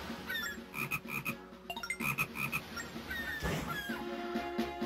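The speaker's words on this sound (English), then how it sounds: "there's a frog in the middle of this map" A frog croaks in the video game The Legend of Zelda: Phantom Hourglass, repeating in quick rhythmic bursts over busy game music and effects, fairly close and continuous for several seconds.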